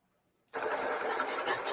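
A small death racer model engine starts buzzing abruptly after a short silence, then runs steadily at a high, whiny pitch with slight revving fluctuations.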